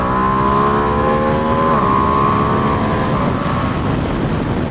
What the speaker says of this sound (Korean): 이 배기음이 바뀌었습니다